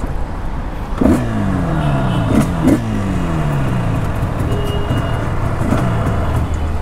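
Tuned Yamaha RD350 motorcycle, bored from 29 to 39 bhp, with its two-stroke engine and exhaust droning steadily throughout, rising and falling pitch sweeps as the rider shifts gears, loud and close with no speech.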